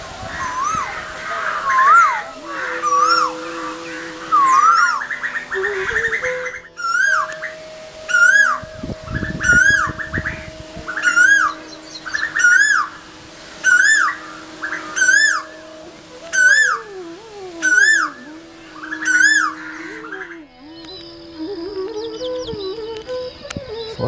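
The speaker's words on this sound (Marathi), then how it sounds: "लहानपणापासून सर्वांचे आकर्षण असलेला हा पक्षी कोकिळा." An Asian koel calls a dozen times in a steady rhythm, each call a clear rising whistled note repeated every couple of seconds over a sustained tonal background hum.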